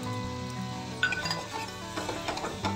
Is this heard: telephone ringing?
no